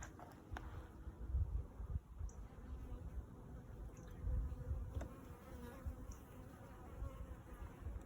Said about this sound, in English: it's just the big old drones buzzing around